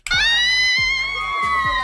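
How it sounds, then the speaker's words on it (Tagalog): A crowd of fans at an SB19 anniversary celebration screams and shouts in sustained high-pitched waves, loud and close, with rhythmic thumping beneath the shrieks. "Sigaw kayo ng sigaw"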